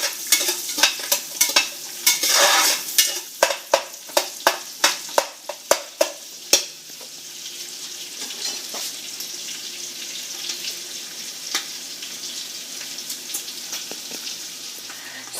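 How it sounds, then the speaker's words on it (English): Whole spices sauté in a pan for a mutton stew, with rhythmic scraping stirs over the first few seconds, then a soft continuous sizzle with occasional light clicks. "And saute it till everything turns golden brown."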